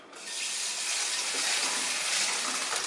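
Tap water runs steadily over a pan as it is rinsed, a close, continuous broadband splashing rush that starts abruptly and holds even for a few seconds with no voices.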